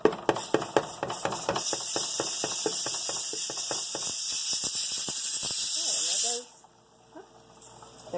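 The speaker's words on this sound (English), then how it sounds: "There goes the steamer and the pressure cooker, the pressure canner" A pressure canner jets steam in a loud, continuous hiss while corn is pressure canned beside a pot of corn cob jelly, with ticking clicks at the start; the hiss cuts off abruptly near the end, leaving quiet room sound.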